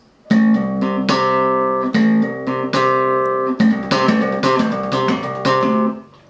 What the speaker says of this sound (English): this slap technique involves muting the string with the thumb and then hitting it again to make the note